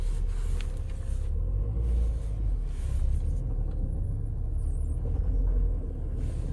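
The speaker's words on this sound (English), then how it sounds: "Now let's try this in first gear." Mini Convertible driving in first gear, with a steady low engine rumble and drivetrain drone close by throughout. No voices.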